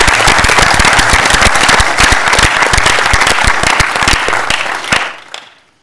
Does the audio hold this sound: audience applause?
yes